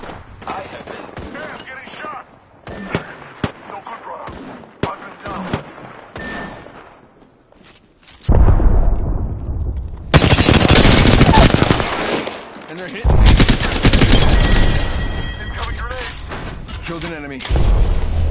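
Gunfire fills a console shooter video game, with scattered sharp shots and clicks at first, then long loud bursts of rapid automatic fire with booms and crashes. A voice talks over parts of it.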